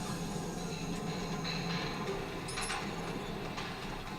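A metro train in the video game Watch Dogs Bad Blood gives a steady, continuous rumble and rattle, with faint metallic squeals now and then and no talk.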